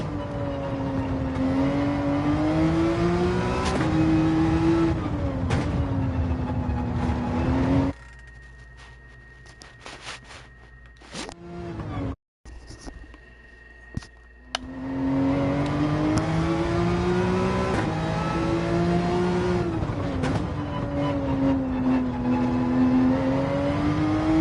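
A race car in Gran Turismo 7 revs hard through the gears, its engine whine climbing and dropping repeatedly. A quieter, muffled break sits in the middle before the loud revving returns.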